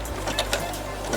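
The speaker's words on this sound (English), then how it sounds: "So I'm just gonna sew it a few times." Brother sewing machine stitching back and forth through fabric, a loud close mechanical whir and rattle lasting about a second.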